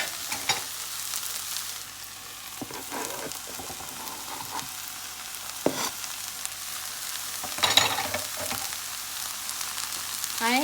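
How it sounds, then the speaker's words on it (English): Onions and peppers sizzle and fry in a pan with smoked herring, a continuous crackling hiss with occasional louder stirring scrapes throughout. "I'm gonna add my onions and pepper."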